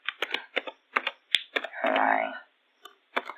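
Typing on a computer keyboard while writing Java code: a quick run of close, distinct keystrokes, one sharp louder tap, and a brief rattling burst, with short pauses between.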